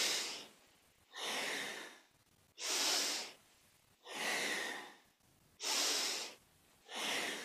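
Slow, deliberate breaths during a kundalini yoga Sufi grind: six long, close airy inhales and exhales alternating evenly with short pauses between them, no voice over them.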